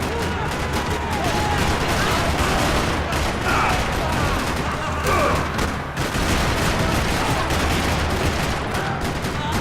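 Gunfire from a golden PT-92 pistol in the video game Max Payne 3, dense and continuous bursts of shots in a busy firefight with a constant loud wash of noise and faint speech underneath.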